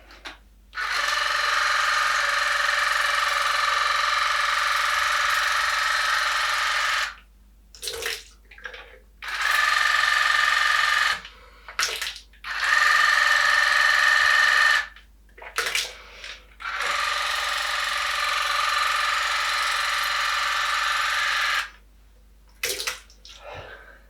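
A steady hissing water spray from a cordless Morpilot water flosser runs in several long bursts separated by brief pauses and small clicks, close and fairly loud.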